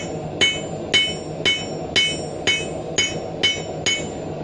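Blacksmith hammer blows on steel being drawn out into a leaf end hook in a backyard forge: eight sharp, ringing strikes at an even, quick rhythm, close and clear with no talk.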